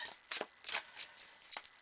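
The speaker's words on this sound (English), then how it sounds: "I'm still shuffling." Tarot cards shuffled by hand in a quiet room, a series of soft, quick riffling bursts in an uneven rhythm, close and faint.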